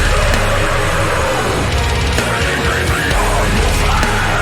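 Deathcore metal music, loud and dense with heavy distorted guitars, pounding low-end drums and a thick wall of sound playing continuously.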